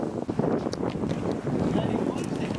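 Rough, gusty wind buffets the microphone with a steady low roar in cold outdoor air, and a voice is faintly present beneath it.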